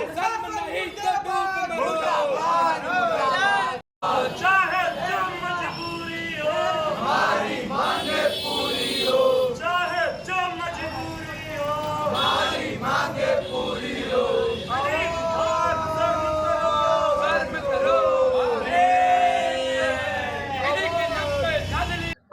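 Students at a sit-in protest in Varanasi chant slogans together, a crowd of voices rising and falling in a loud, continuous stream with a brief break near the start.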